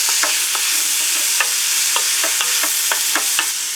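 Garlic fries in oil inside a pressure cooker pot, a bright continuous sizzle close up, punctuated by a quick run of rhythmic scraping taps as a spoon stirs it around.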